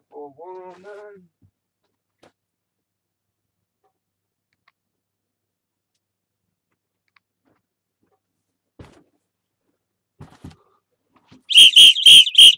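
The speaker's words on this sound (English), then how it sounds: "It's the Santa disco whistle." A Santa disco whistle is blown in a few sharp, loud shrill blasts at the very end, after a quiet stretch with brief faint sounds and a little talk near the start.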